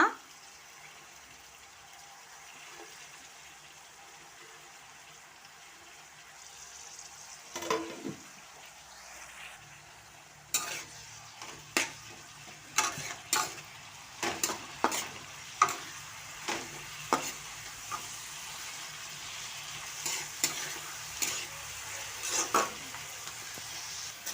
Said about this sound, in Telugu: ఆనియన్స్తో పాటు మెంతా కూడా ఫ్రై చేసుకుంటా